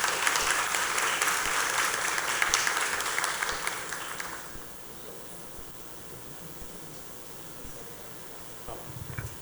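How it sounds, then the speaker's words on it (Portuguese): An audience at an inclusion workshop gives a steady round of applause to welcome a speaker. It lasts about four seconds, then drops to quiet room tone. "Vamos recebê-la com uma salva de palmas."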